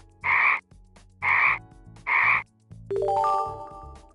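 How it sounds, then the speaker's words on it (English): A frog croaks three times in an even rhythm, loud and close, each call a short buzzy rasp, followed by a bright chiming musical sting. "A frog."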